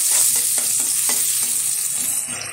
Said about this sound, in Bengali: পেঁয়াজটা একটু সুন্দরভাবে ভেজে নেব।